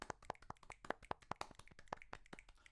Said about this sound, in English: A nice little golf clap for you.